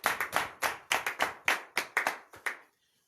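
Congregation at a morning prayer service in Comè, Benin clapping in acclamation to Jesus: about a dozen sharp, separate hand claps in loose rhythm, close and fairly clear, stopping abruptly with no talk.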